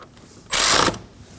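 A hand ratchet snugs down a bolt on a vapor canister purge solenoid valve of a 2015-2022 Chevrolet Colorado, one brief burst of rapid clicking pawl sound, close and loud, with no talk.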